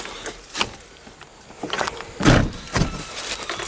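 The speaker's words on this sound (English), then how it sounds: "if I can hold the door open on the hill, it's got this side door" A car's small side door, a rear-hinged suicide door on a totaled car in a salvage yard, is worked open on a hill: a few separate clunks and latch knocks, close and fairly loud, with quiet gaps between.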